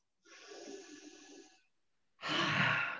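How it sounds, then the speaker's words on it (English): Someone takes a deep breath. A long, slightly voiced breath comes first, then after a short silence a louder, rushing breath sounds close to the mic. "Take a breath."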